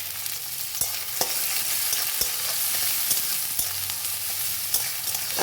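Onions sizzle in hot oil in a pan, a steady frying hiss broken by sharp scrapes and knocks of a spoon stirring at irregular intervals, close and with no talk.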